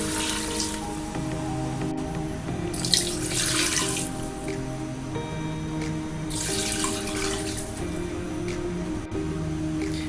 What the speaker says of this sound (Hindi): ये अब मैं इसके अंदर पानी ऐड करता हूँ।